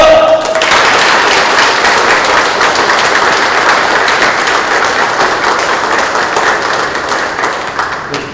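Loud, sustained applause from a large crowd at a Daegu city meeting, steady at first and then slowly thinning out toward the end.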